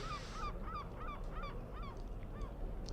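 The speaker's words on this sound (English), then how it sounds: "A rather noisy seagull outside our commentary box here." Seagull calling repeatedly outside a cricket ground commentary box during a one-day cup match, a string of sharp squawks at a steady rhythm over constant background crowd noise.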